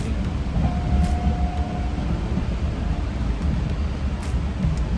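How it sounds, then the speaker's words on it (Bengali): Passenger train pulling out of Howrah station, heard from inside a carriage as a steady low rumble with rolling noise and a faint tonal squeal, continuous and fairly loud throughout. "আর এইমাত্র জাস্ট ট্রেনটা ছাড়লো"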